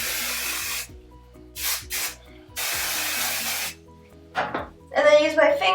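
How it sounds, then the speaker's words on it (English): Texture spray misted over short pixie-cut hair in several bursts, two long steady hisses and a few shorter puffs, close and clear, with a voice talking near the end. "So I'm just gonna spray this all around."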